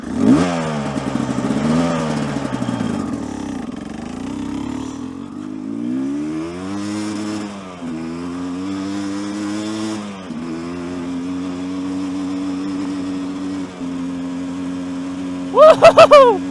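A gas dirt bike engine revs and bogs through several rising and falling throttle sweeps, loud and close, settling into a steady drone with a sharp burst near the end.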